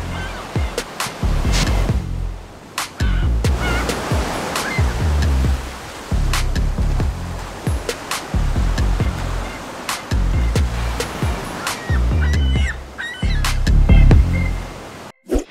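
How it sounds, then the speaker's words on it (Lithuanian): Big Atlantic waves at Nazaré break and crash in a steady, loud roar of surf, with repeated heavy booms and rushing whitewash up close. "Šiandien bangos nėra labai didelės, apie 5 metrus"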